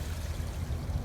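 Creek water fed by runoff flows steadily nearby along a wooded trail in a permaculture food forest, a continuous broadband rush with no talk.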